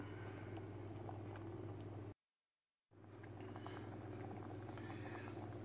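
A pot of charro beans simmering uncovered on the stove makes a soft, steady bubbling hiss with a low hum beneath it, broken once by a brief silent gap before the bubbling carries on.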